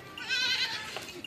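Goats bleat on a Pakistani farm where cows and young kids are kept, a loud, wavering cry at close range followed by fainter animal calls, with no talking.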